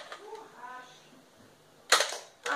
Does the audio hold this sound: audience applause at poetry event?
no